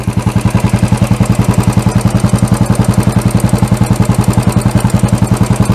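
A Royal Enfield BS6 motorcycle engine runs at raised idle after the idle screw is turned up, making a loud, steady, fast thumping exhaust pulse close by with no talking.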